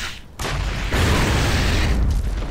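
In Gears of War 3, a frag grenade goes off with a loud, sustained boom that swells into a rumbling roar lasting over a second, then tails off slowly.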